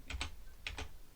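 Keystrokes on a computer keyboard while entering Linux shell commands, two short pairs of quick clicks separated by a brief pause, close and fairly quiet.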